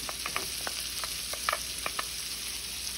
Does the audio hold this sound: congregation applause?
no